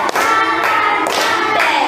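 A school class claps along with a song, sharp hand claps at a steady rhythm over voices singing together close by.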